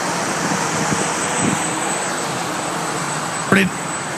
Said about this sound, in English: Footage of the drone coming in for a landing.